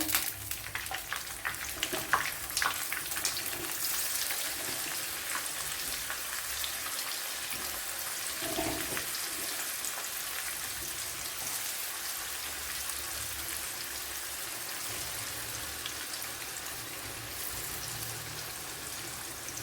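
Pieces of fish fried in oil for a Kerala fish biryani, giving a steady, dense sizzle with crackling pops that runs the whole time, close and even in level, with no talking.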